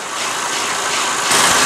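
A steady truck tractor engine running close by while coupling a refrigerated trailer, a low continuous rumble with broadband noise that grows slightly louder near the end.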